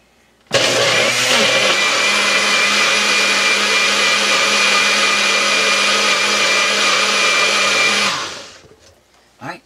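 Countertop blender running, a loud steady whirring motor roar that starts abruptly, holds evenly for about eight seconds, then winds down.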